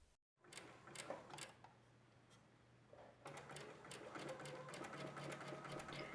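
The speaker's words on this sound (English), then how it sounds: "So that's the first stitching complete, stopping where we started." Sewing machine stitching along a fabric edge: a close, rapid mechanical whirring in short bursts at first, then a longer continuous run of stitching.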